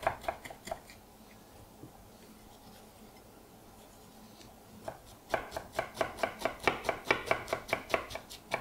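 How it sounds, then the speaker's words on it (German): A knife dices onions on a cutting board: a few quick chops at the start, a quiet pause, then a fast, even run of close, crisp strikes near the end. "ich schneide erstmal ein bisschen Zwiebelwürfeln"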